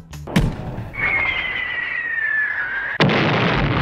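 A cartoon cannon in a Crayon Shin-chan episode fires with a sharp blast, a whistling tone follows for about two seconds, and then a second loud boom.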